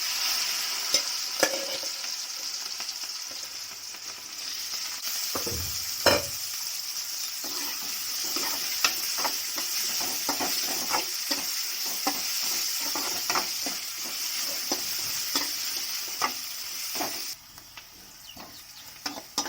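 Wild palm fruit and chicken frying in oil, a steady close sizzle broken by repeated stirring scrapes, with no talk.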